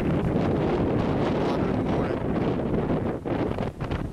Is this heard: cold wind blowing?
yes